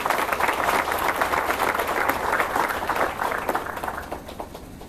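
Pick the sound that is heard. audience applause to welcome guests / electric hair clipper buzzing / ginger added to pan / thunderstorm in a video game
audience applause to welcome guests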